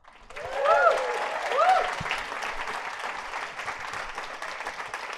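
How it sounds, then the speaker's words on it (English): Audience applause for a presenter at the Codeland 2018 tech conference, a broad wash of clapping that swells, holds and tapers slightly, with a few cheers and whoops rising over it early on. "Give him a round of applause."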